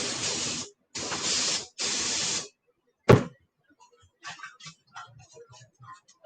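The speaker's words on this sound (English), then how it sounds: "You can't use brake parts cleaner on something that's not a brake part" Brake parts cleaner sprays onto 4G63 engine parts in three loud, steady hissing bursts, followed by a sharp knock and then faint, scattered light ticking and tapping.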